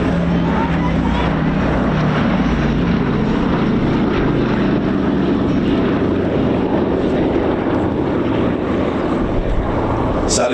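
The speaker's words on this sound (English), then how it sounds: "Let's listen to those 4 beautiful engines." The four piston engines of the B-17 bomber Sally B, built at Lockheed Vega's Burbank works in 1945, run in at the Old Buckenham airshow with a loud, continuous propeller drone that fills the whole stretch.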